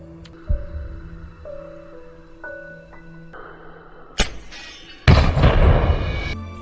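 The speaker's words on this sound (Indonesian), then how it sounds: "inilah contoh tembakan dari Ming" A sniper rifle shot in a film lands after quiet tonal beeps and ticking, as a sharp loud crack followed by a second heavy burst of noise that rings out to the end.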